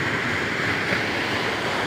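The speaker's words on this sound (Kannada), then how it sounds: "ನೀರು ಜಾಸ್ತಿ ಹೋಗ್ತಿದ್ದಾವೆ" Water gushes steadily through the open sluice of Mugadalabetta lake in Pavagada taluk, a dense, constant roar that holds even throughout with no talking.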